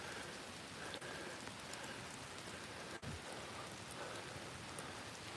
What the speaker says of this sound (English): I think it's just been raining all day